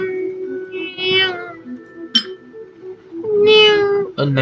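A person imitates a cat with a string of close meows, uneven and stretched, broken by a short sharp click and ending in a long, loud wail.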